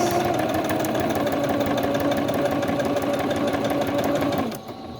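A sewing machine runs a straight stitch through fabric for primitive journal tags, a steady continuous mechanical whir with rapid needle rhythm that stops abruptly near the end.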